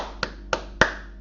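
Three sharp hand claps, evenly spaced and close, keep time in a Shabbat song. A low steady hum sits underneath, and no voices are heard.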